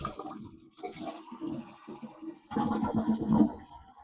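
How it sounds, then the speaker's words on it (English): A toilet is test-flushed after a new flapper kit is installed: a rushing flush of water, then a louder gurgling surge as the tank drains and starts to refill, heard close and alone. "let's give it a test flush"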